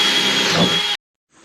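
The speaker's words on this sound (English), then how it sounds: "Drilling holes all around it." A loud, close power drill whirs for about a second while drilling holes in a barrel, then cuts off abruptly into silence before a faint noise returns.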